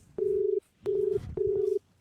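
Three steady electronic dial tones, each lasting about half a second with brief gaps, sound close and clear as a phone is dialed to call the village pradhan, with a faint background rumble and no talking.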